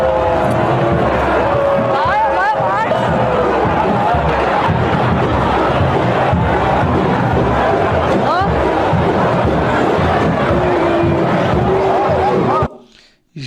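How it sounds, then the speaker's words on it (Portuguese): A large crowd booing and shouting at the governor of Bahia during a street walk, a dense sustained roar of many voices with scattered whistles, loud and close, ending abruptly. "Aqui é o governador da Bahia sendo vaiado."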